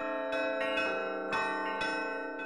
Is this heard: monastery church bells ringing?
yes